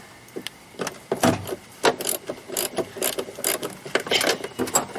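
A ratchet wrench loosens a 17 mm bolt on the pedal cluster of an air-cooled VW (Type 3, Beetle, Karmann Ghia or Thing), producing bursts of quick close clicking and ratcheting with short pauses between strokes.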